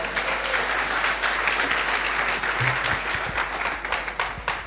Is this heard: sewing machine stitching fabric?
no